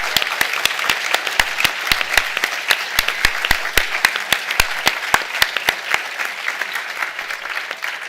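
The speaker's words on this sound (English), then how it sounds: "give you an extra applause for succeeding in doing all this" Audience applause at a graduation ceremony, a steady wash of many hands clapping with a few sharp, distinct claps standing out near the front, holding even throughout.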